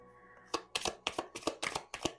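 Tarot cards shuffled close up in about six quick crisp riffles, each a short papery burst over a faint background hum.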